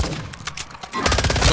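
Rapid automatic gunfire in Call of Duty Modern Warfare 3 (2023) zombie mode: scattered shots early, then a dense, loud, continuous burst of fire through the second half.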